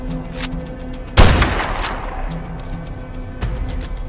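A single loud, close shot from a video game weapon booms out over steady game background noise, followed by a fainter second report a couple of seconds later.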